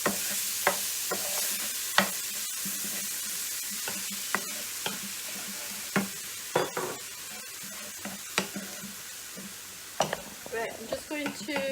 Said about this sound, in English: Okay, and then we're going to add the onions.